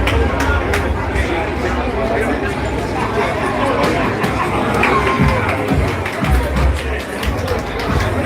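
Capacity crowd inside a Bronx boxing gym during an amateur NYC Metro versus Puerto Rico show, loud continuous hubbub with bursts of cheering and shouting rising and falling over the whole stretch.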